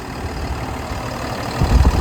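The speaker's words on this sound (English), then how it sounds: "The engine is idling, as is the compressor, building up pressure." A Cummins 6.7L diesel engine idles steadily with an air compressor running alongside it, building pressure, giving a continuous low rumble and broadband hiss that swells slightly near the end.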